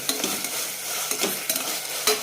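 Close scraping stirs in a pot of tomato-based Ambur kuska biryani masala over a steady, crackling sizzle in oil, with a few sharper knocks as a spoon moves through the food.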